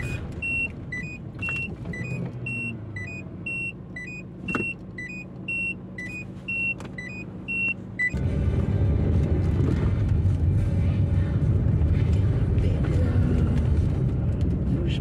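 Car pulling away and driving near Saint-Claude, the steady engine and road rumble rising loudly after a stretch of quieter cabin noise with repeated beeping chimes.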